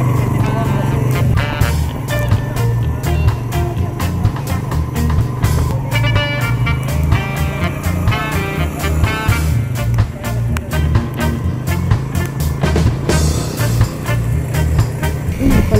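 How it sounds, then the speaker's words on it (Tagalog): A large motorized tricycle carries riders through Boracay, its engine chugging steadily up close with road and wind noise, while voices talk intermittently over the ride. "Buti na lang malalaki ang tricycle dito sa Boracay."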